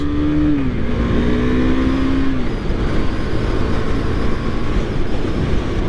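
A 2023 KTM 390 Duke motorcycle pulls away from a stop in first gear, its engine note rising and then holding steady before fading into broad road and wind rumble.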